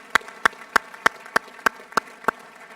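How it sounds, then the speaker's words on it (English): Eight sharp, evenly spaced claps ring out at a slow steady beat during a school senior prizegiving, crisp and close, with no voices. "I think we should give you a big round of applause to recognise that."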